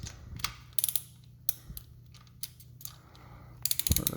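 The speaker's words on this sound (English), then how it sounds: "now I will take the 3/8 torque wrench that I have, and we are going to" A 3/8-inch ratchet torque wrench tightens a spark plug on a 2006-or-later Yamaha TT-R50 dirt bike, giving a few spaced bursts of quick ratchet clicks, close and crisp, with a denser run of clicks at the end and no talking.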